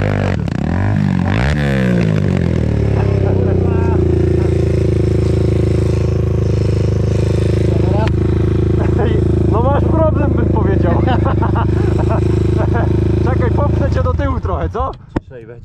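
A KTM motorcycle engine held at full throttle in a mine, after a breakdown: a loud, steady high-revving drone with a rising rev at the start that holds for several seconds, then cuts off abruptly near the end.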